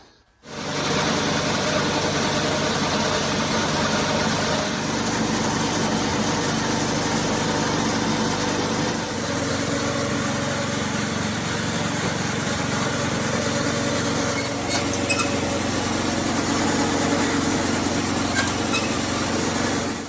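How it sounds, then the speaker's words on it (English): A vintage Craftsman snowblower made by Snow Shark, a very old unit, runs steadily for the whole stretch, its small engine droning loud and close with a continuous buzzing hum that shifts slightly in tone partway through. "the snowblower is up and running, ready to go"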